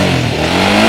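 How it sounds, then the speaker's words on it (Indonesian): Touring motorcycle engine revved briefly after a long trip across Sumatra, a loud, close, rough mid-pitched roar held for under a second with no talk. "Coba kita geber dikit ya"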